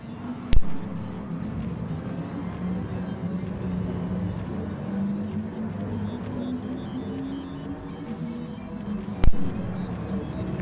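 In Gran Turismo Sport, race car engines drone at Suzuka during a 60-minute endurance race, wheel to wheel with a Mercedes. A steady engine hum holds throughout, and two sharp clicks stand out near the start and end.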